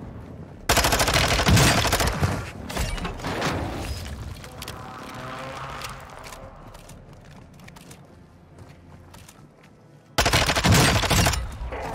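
Loud bursts of Vaznev-9K submachine gun fire in Warzone 2, a dense rapid burst at the start and another at the end, with scattered shots and game noise between.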